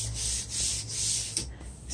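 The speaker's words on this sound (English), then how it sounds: "I'm using 60 grit sandpaper and just my old palm sander." A palm sander fitted with 60 grit sandpaper grinds steadily across an old wooden drawer, a close, continuous rasping hiss that swells and eases in slow passes, with no talking.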